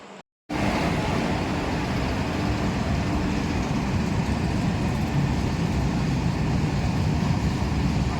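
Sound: train arriving at station

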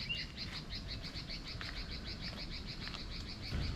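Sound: birds chirping on a mountain nature trail

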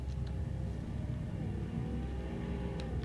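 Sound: car engine in a driving video game

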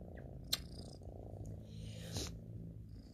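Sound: cat purring

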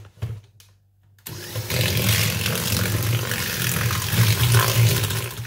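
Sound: mixing creamy butter with sugar mixture

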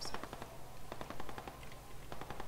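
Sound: gunfire, video game

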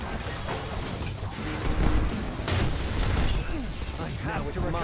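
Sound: explosions in the video game Space Punks

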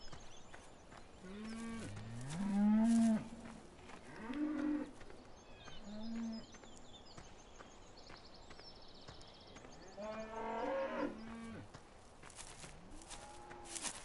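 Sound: cows mooing in a PS4 farming video game

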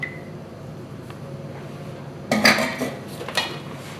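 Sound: whisking an egg into foam

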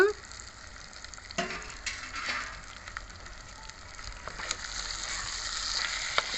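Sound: frying konam fish pieces in ginger garlic paste

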